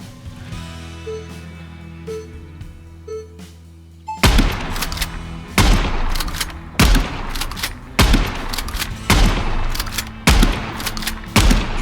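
Rapid gunfire during a magazine challenge in Gunsmith Simulator with a Colt M1911 or Mossberg M590A1: after a quiet mechanical hum, about eight loud, sharp shots ring out at a steady pace, each with a short echoing tail.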